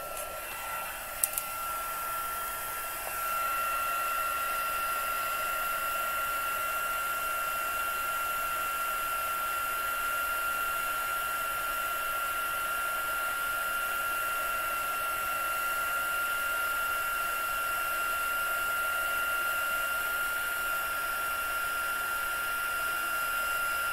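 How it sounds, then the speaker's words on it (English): A craft heat tool runs to melt embossing powder, switching on after a brief click and a few seconds of quiet, then keeping up a loud, steady whirring blow that holds unchanged to the end. "We're just going to go ahead and heat emboss this."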